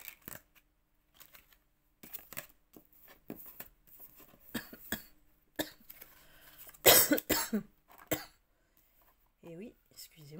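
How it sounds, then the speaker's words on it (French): A person coughs several times, one sharp loud cough standing out, amid soft rustling and quiet whispery sounds. "Et oui, excusez-moi, je tousse toujours."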